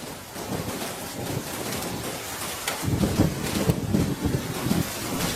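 Rain falls with gusts of wind buffeting the microphone, a rough, uneven hiss and rumble that swells louder in the second half, with no voices.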